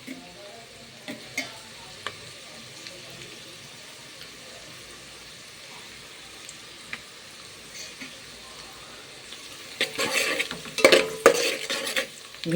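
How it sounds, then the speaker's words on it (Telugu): Onions, green chillies and bay leaves frying in oil, a soft steady sizzle with occasional scrapes of a spoon against the pan, turning into louder clattering stirring near the end. "ఆయిల్లో ఆనియన్స్ మిర్చి ఫ్రై అయిన తర్వాత ఒక 5 బిర్యానీ ఆకులు వేసి"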